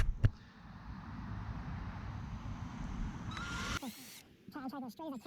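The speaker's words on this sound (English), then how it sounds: "then I'm going to take the drill." After a sharp click, a power drill whines steadily into a 2x4 for over three seconds and then stops, followed by a short burst of higher whirring and scattered clicks and handling noises nearby.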